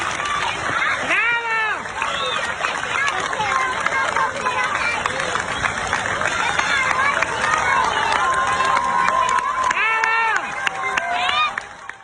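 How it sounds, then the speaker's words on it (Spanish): A crowd of people applauds and cheers firefighters after a hard blaze in the Canary Islands is brought under control. Dense clapping and voices run steadily for about twelve seconds, with rising and falling whistle-like tones over the din. "la gente privada aplaudiendo a los bomberos"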